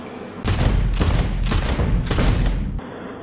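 Loud bursts of gunfire at shooting practice come in quick succession, four rapid volleys with short gaps between them, then the firing stops abruptly.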